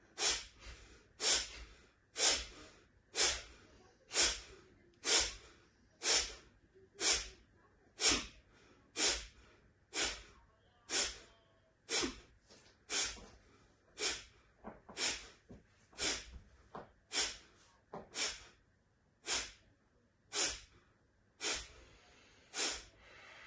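Kapalabhati yoga breathing, done with arms raised: about twenty sharp, forceful nasal exhalations at a steady pace of roughly one per second, close and distinct, each followed by a soft passive inhale.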